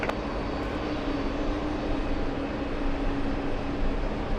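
A jet airliner roars down the runway on its takeoff run, a loud, steady, broadband engine rumble heard throughout without any pause.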